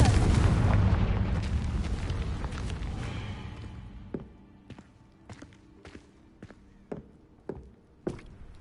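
A loud Confringo spell explosion in Hogwarts Legacy on PS5, a dense rumbling blast that slowly fades over several seconds, followed by scattered sharp footstep-like clicks and small impacts.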